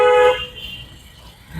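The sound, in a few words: car horn honked once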